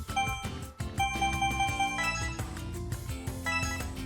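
A phone notification chime from the video game Hakuoki SSL, a bright repeated tinkling tone over layered game music, loud and continuous throughout.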